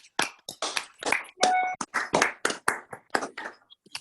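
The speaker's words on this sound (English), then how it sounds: "I'd like for everybody to give a hand of applause" Scattered individual claps from webinar participants come through separately, each a sharp distinct hit with gaps between, uneven in rhythm and moderately loud, with a brief tonal ping in the middle.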